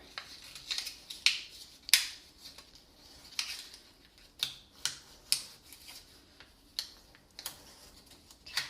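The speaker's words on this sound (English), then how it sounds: "I'm just going to reinforce each of those with my bone folder" Bone folder pressed and dragged along paper creases while assembling a vellum note card box, producing a series of sharp, close scraping swipes and taps at irregular intervals over a quiet background.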